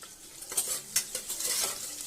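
Ghee with cumin seeds, black pepper and green chilies being stirred in a pan, giving a soft continuous sizzle broken by a few scraping spoon clicks against the metal, close and fairly quiet.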